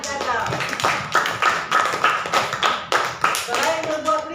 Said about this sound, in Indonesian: tepuk tangan untuk adik azam